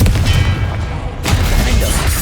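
A loud, roaring blast from the Confringo fire spell in Hogwarts Legacy, a booming fiery rush that surges, dips briefly and swells again, close and dominant with no talking.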